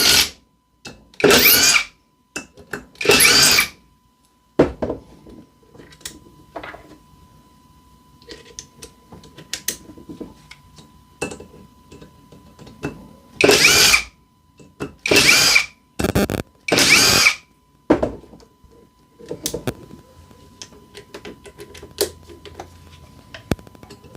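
Power driver backing Tapcon concrete screws out, a string of short loud whirring bursts with pauses between them, the heaviest run of bursts coming near the middle.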